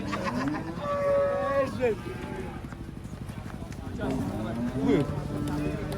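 A large contest cow moos loudly twice, long drawn-out lows near by, as it comes off a truck, with people chatting in the background and some hoof clatter.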